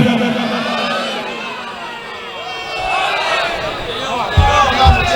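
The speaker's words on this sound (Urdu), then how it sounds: "ہاتھ اونچے کرو سارے نعرے دے جواب دے وہ حیدری" A religious gathering's crowd shouts the slogan "Haidari" back in unison, a loud massed vocal reply filling the space, with some babble and scattered voices around it.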